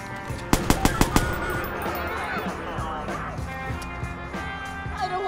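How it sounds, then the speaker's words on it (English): Rapid burst of about five sharp gunshots from the open-world game Watch Dogs, followed by scattered distant pops under steady city ambience and a voice talking. "Someone's firing a gun."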